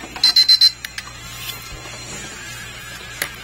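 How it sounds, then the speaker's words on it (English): A small kitchen-style timer alarm goes off with a quick burst of four shrill, evenly spaced beeps, followed by a few softer clicks, over a quiet indoor room. "that was my little timer telling me that I'm going to turn into a pumpkin"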